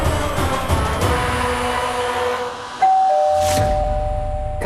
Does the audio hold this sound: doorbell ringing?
yes